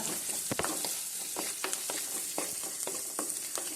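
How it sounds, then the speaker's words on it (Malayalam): Shallots and green chilies sauté in hot oil for a South Indian fish curry, with a steady bright sizzle and sharp spatula scrapes against the pan at irregular intervals, close and clear with no voices. "അതിലേക്ക് ചെറിയ ഉള്ളി ചേർക്കുന്നു അതും നന്നായിട്ട് വഴറ്റുന്നു"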